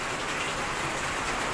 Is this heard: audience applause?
no